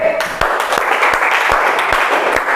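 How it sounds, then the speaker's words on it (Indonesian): A group of people at a university livestock-handling class give a burst of applause for the last group, dense steady clapping heard close and loud throughout. "tepuk tangan untuk kelompok terakhir"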